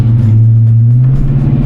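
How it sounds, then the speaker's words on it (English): A clapped-out project car's engine running rough while driving, a loud, close, droning low rumble with a slightly wavering pitch and no talk. "this car sounds like it is 1 foot away from dying"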